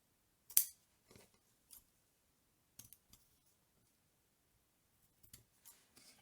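Scissors snip the ends off ribbon or paper trim on a handmade Valentine's Day scrapbook card, giving one crisp loud cut followed by several softer, scattered snips in an otherwise quiet room.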